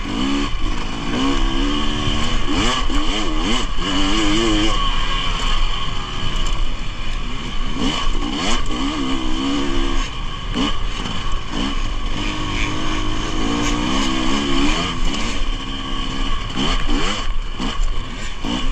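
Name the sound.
dirt bike riding on singletrack trail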